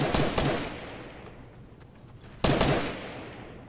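Bursts of automatic gunfire are aimed at the player in a Fortnite-style battle royale game: a rapid volley, a decaying echo, then a second loud burst, close and sharp.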